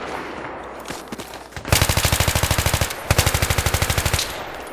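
Automatic weapon fire in Battlefield 3, loud and close: two long rapid bursts of evenly spaced shots with a short gap between them, after a few scattered single shots.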